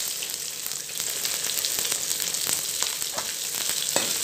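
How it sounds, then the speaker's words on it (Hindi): Chopped onion fries in hot ghee with a constant, loud sizzle and sharp crackles and pops scattered throughout, heard up close and uninterrupted. "अब हम प्याज को खूब पकाएंगे।"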